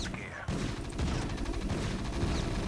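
Rapid gunfire from a StarCraft Terran mission, a dense crackling burst of shots that starts abruptly and keeps going under game effects.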